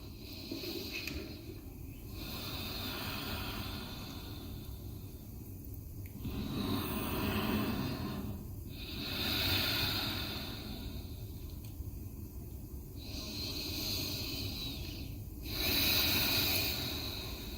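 Slow, deep meditative breaths drawn during a quiet floor yoga practice, three long inhale-exhale cycles rising and falling in a steady rhythm, soft and close with no talking.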